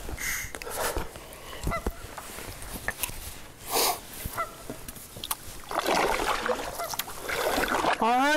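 Mallard ducks call on open water during a spring paddle, with a few loud nearby quacks and honks scattered among paddle splashes and drips, close and intermittent.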